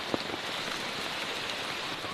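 Steady morning rain falls on a thickened forest shelter in a tropical rainforest, a dense continuous hiss of drops with no talk, close and even throughout.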